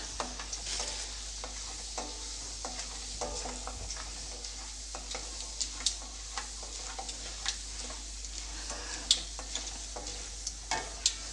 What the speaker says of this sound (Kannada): ನಾನಿವಾಗ ಒಂದು ಟೇಬಲ್ ಸ್ಪೂನಷ್ಟು ಕಡಲೆಬೇಳೆ ಹಾಗೆ ಒಂದು ಟೇಬಲ್ ಸ್ಪೂನಷ್ಟು ಉದ್ದಿನಬೇಳೆನ ಹಾಕಿಬಿಟ್ಟು ಸ್ವಲ್ಪ ಚೆನ್ನಾಗಿ ಫ್ರೈ ಮಾಡ್ಕೊಳ್ತೀನಿ